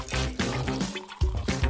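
Water pours into a blender in a short, gurgling stream with uneven splashy pulses and a brief pause midway.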